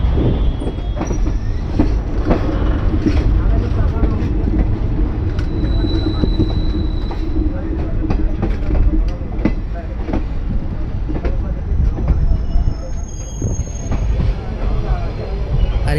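The Tebhaga Express, a Balurghat–Kolkata train, rolls loudly on the rails near Dum Dum with continuous wheel rumble, rhythmic clacking and occasional high squeals, heard from onboard for the whole stretch.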